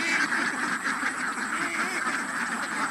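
Many ducks on a duck farm quack together in a dense, continuous chorus that fills the scene at moderate loudness, with no clear pauses.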